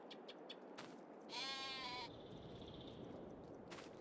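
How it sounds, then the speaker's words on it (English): A single wavering sheep bleat from Farming Simulator 22, heard over steady game ambience with a few soft clicks and taps around it. "It does look like these sheep are actually now producing wool."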